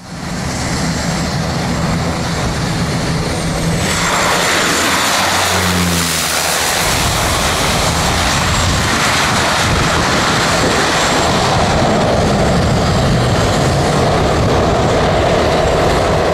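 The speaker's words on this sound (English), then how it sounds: "This DHL Cessna 208 flying dangerously low while approaching St. Barthélemy." DHL Cessna 208 flying dangerously low on approach to St. Barthélemy, a loud roaring propeller engine swelling and sweeping past close overhead, then continuing as a steady broad roar with wind noise.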